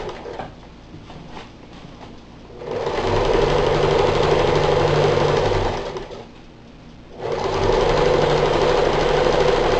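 Sewing machine stitching a double seam into fabric for a potato grow bag, two loud steady bursts of rapid whirring with a short pause between, close up and without talk.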